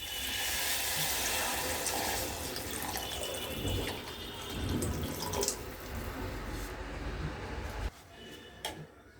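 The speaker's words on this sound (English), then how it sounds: "Now we're gonna add some water." Water pours from a tap into a cooking pan while ramen is being made with ketchup, a steady splashing rush that runs for several seconds before stopping, followed by a few faint drips.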